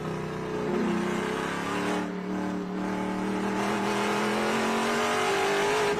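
A TA2 series race car engine drones steadily at high revs during a race at Mission Foods, its harmonic tone rising slowly through the shift, loud and continuous with no talk.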